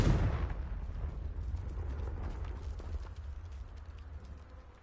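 A Confringo spell blast in the Hogwarts Legacy game hits with a sharp, loud onset, and a low rumbling tail follows, holding steady for several seconds before slowly fading. No voices are heard.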